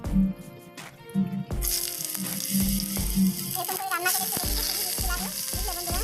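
Potato and eggplant fry in a hot pan with a steady loud sizzle, broken by clattering stirring knocks as someone talks over the cooking.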